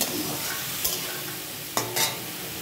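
A spatula stirs fried rice with raisins and cashews in a hot pan, giving a steady soft sizzle broken by a few sharp scraping clinks against the metal.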